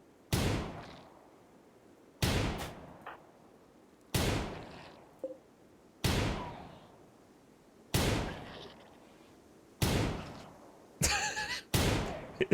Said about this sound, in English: is that a gunshot sound getting closer?